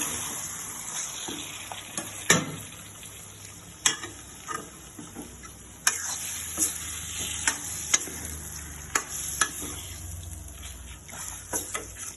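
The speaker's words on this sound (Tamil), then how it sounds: "இதை நல்லா கிளறி விடணும்" Ginger and onion masala sizzles in a pan for chicken ghee roast, with a steady fry hiss broken by sharp scraping clicks of a spoon stirring at irregular intervals, close and clear with no talk.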